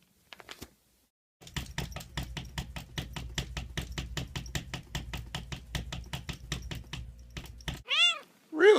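A cat meows several times, loud and close, near the end. Before that comes a fast, steady run of sharp rhythmic tapping, and there is a brief small noise at the very start.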